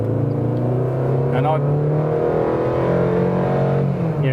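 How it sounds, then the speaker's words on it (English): A 2017 Fiat Tipo compact sedan's engine revs hard under kick-down acceleration from about 30 km/h, a loud strained drone rising in pitch, with someone talking over it. "the engine screams, so to say, and protests in some way against these"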